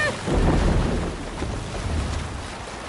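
Viking longship under sail in Assassin's Creed Valhalla, a steady broad wash of water and wind noise from hull cutting through waves, loudest early then holding a rolling, continuous roar with no clear speech.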